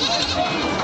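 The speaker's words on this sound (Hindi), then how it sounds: "देसी नस्ल की बकरी दिखा रहे हैं आपको" A desi breed goat bleats briefly at a goat market in Jaswant Nagar, Etawah, Uttar Pradesh, a short, close cry mixed with people talking nearby.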